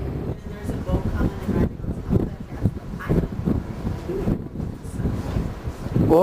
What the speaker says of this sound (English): Windy. This is Alaska.